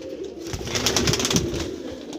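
A golden pearl-patterned pigeon coos in a low, throaty murmur, close by, steady and moderately loud throughout with no talk.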